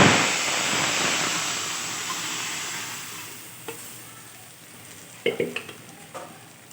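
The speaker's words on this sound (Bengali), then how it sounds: "আদাটা তেলের মধ্যে একটু ভাজা হলে আমি সেদ্ধ করা লাউ আর ডালটা এর মধ্যে দিয়ে" Boiled bottle gourd and lentils hit hot oil with ginger, a loud burst of sizzling that gradually dies down, followed by a few scattered clinks of stirring.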